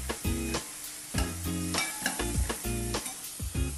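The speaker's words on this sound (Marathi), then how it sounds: "छान हलवून घेते त्याला" Coriander and green chili paste is stirred in a pan, the spoon clanking against the metal in quick repeated strokes over a soft, constant sizzle.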